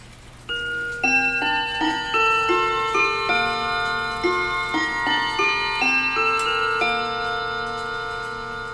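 A serviced Seth Thomas carriage clock chimes the half hour: a close, clear sequence of bell-like tones rings in a melodic pattern and lingers, over a faint steady hum.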